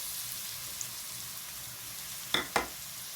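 Onion and capsicum fry in oil in a pan as a faint, steady hiss, with two quick spatula clinks near the end and no one speaking.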